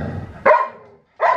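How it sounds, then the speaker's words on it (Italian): Dog letting out two sharp barks close by, the second after a short pause, following low talk at the start. "abbaia ora."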